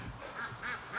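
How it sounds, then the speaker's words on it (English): Muscovy ducks in a barn give soft, nasal quacks, several short calls in quick succession, faint and a little distant. "So I'll give you some duck action"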